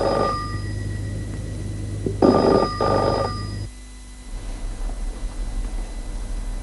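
A telephone rings in a home scene from an Arabic television drama, with several loud electronic ring bursts over a steady background hum, then a quieter stretch after the ringing stops.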